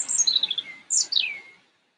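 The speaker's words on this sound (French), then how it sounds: "le son du chant des oiseaux que vous percevez au travers de" Outdoors, a bird sings two quick descending chirping phrases, clear and fairly close, then falls silent.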